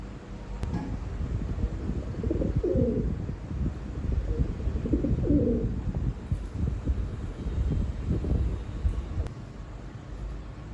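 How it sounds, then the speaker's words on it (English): A bird, most likely a pigeon, coos a few times in low soft phrases, close by, over a constant rough background of wind and room rumble. "He just let the bird into his house."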